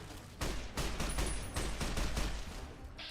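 Gunfire in the video game Fallout: New Vegas, a steady string of loud overlapping shots and bursts through the whole stretch with no voices.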